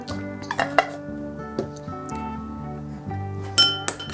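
A spoon clinks against a bowl while stirring sauce mixed with salt and dried garlic, a run of close, bright metallic taps in an uneven rhythm with short ringing tones, heard on its own without talk.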